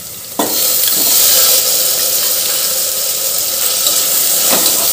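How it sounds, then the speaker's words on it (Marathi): Potato and onion being dropped into hot oil, starting with a sharp burst of loud sizzling that settles into steady close frying with occasional stirring scrapes. "तेलात मी बटाटा टाकते"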